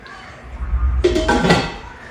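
Metal biryani cookware clanks and rattles as a pot is picked up and handled, a couple of sharp clinks over low background rumble.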